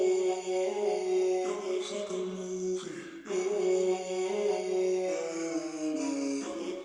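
A hip-hop beat plays, built from pitched vocal chops with reverb and a widening micro-shift effect. Smooth sustained tones shift every second or so, steady and moderately loud, with no talking.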